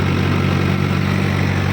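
A Powertrac Euro 60 tractor engine runs at a steady 1100 RPM, a loud, close, continuous diesel hum with an even low throb and no talking.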